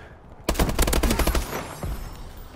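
Gunfire in the video game Call of Duty: Advanced Warfare, a loud rapid automatic burst of many close shots during a Domination match, followed by a few scattered reports and a fading tail.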